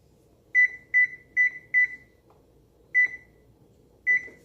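An oven's control panel being set to a one-hour timer for lasagna gives six short, clear electronic beeps: four in quick succession, then two more spaced apart after a pause, in an otherwise quiet kitchen.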